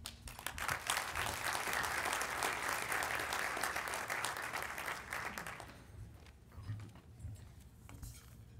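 An audience applauds student speakers, a thick, loud roll of clapping that holds for nearly six seconds, then drops to scattered claps, shuffling and faint room noise.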